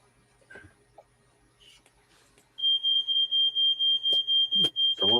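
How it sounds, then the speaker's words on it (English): A smoke alarm mounted just outside a kitchen goes off over burnt toast, a piercing high beeping that repeats in rapid steady pulses after a quiet stretch of faint room noise, with a brief voice at the end. "it doesn't help that they put the smoke alarm right outside the kitchen"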